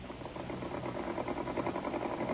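A knee-lever-operated sewing machine runs in a steady, low mechanical whir with a rapid rhythmic pulse, heard alone and faint, with a muffled, old-broadcast quality.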